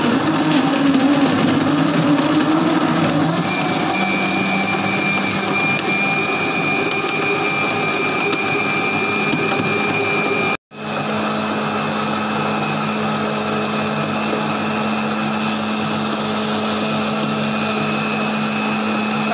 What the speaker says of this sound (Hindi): अब मैं इसको ब्लेंड कर लूँगी अच्छी तरह से अब इसे ब्लेंड कर लेते हैं